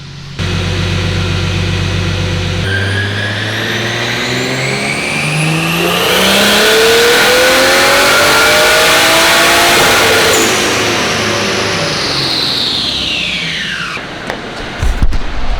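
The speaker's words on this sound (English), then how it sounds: "But first pull, 1JZ, pump ethanol, E80, a Garrett 3071, Gen 2." Nissan S13 coupe with a 1JZ engine on E80 pump ethanol and a Garrett 3071 turbo, revving hard through a dyno pull: a loud, sustained engine note climbing steadily in pitch, then dropping off sharply at the end.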